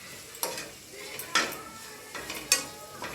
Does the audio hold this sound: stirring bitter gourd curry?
yes